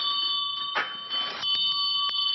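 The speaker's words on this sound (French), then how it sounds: "Pour sonner, tirez très fort sur la bobinette." A doorbell rung by pulling hard on a bell pull in a courtyard of an old artisans' quarter, giving a bright sustained ringing tone with a couple of louder jangling bursts and light clicks.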